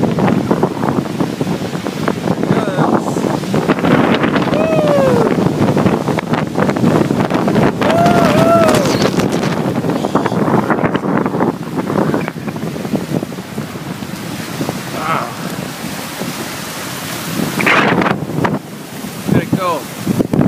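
Strong wind gusts blast across the open water of Cameron Lake, roaring steadily into the microphone with waves and chop churning beneath, loud and continuous for the whole stretch and easing slightly near the end.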